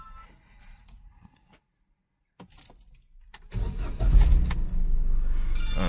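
Perodua Axia 2014 engine cranking and starting after a fuel pump replacement: keys jangle and a few quiet clicks, then the engine catches and settles into a loud, steady idle.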